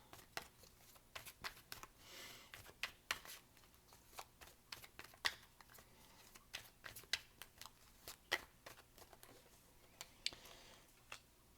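Tarot cards are drawn and shuffled by hand in quick irregular bursts of crisp flicks and paper slides, close and quiet with no talking.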